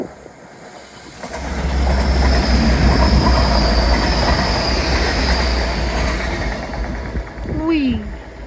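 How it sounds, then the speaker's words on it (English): A train passes along the seawall at Teignmouth below Sprey Point, a steady loud rumble of wheels on rail that swells and holds for several seconds, with a brief squeal near the end. "A little train comes"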